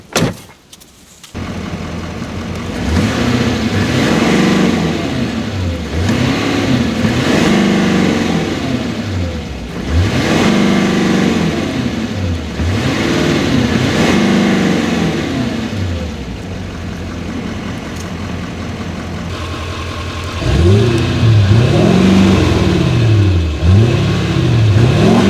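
A GMC Sierra pickup's engine revs repeatedly in rising and falling surges, loud and close, with a harder burst of revving near the end and no talking.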